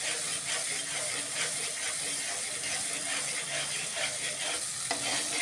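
A spatula scrapes and stirs a paste of cashew, melon seed and poppy seed in a sizzling pan, in close, steady, rasping strokes with no talk.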